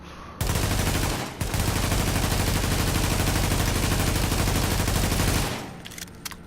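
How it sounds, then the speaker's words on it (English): Sustained full-auto fire from a G36 carbine rifle in The Division video game, a dense continuous burst lasting about five seconds with one brief pause near the start, loud and close, with no talk. "that's full auto. Let's do full auto over there."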